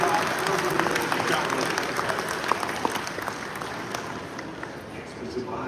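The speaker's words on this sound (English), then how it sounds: "like a round of applause here" Audience applause at a crypto conference session, sustained clapping from a large crowd that slowly tapers toward the end.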